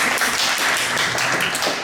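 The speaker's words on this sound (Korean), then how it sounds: "박수." A church congregation in Vienna applauding at a Sunday gathering: a steady wash of clapping hands from many people, sustained and fairly loud for the whole stretch, with no voices over it.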